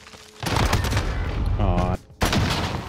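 An assault rifle in Call of Duty Modern Warfare fires a dense, continuous burst of loud automatic gunfire. The shooting breaks off briefly, then resumes with another sustained stream of shots.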